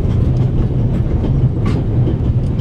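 A train in The Raven video game rumbles steadily along the tracks, with a loud, continuous low roar and faint clickety-clack over the rails, and no voices.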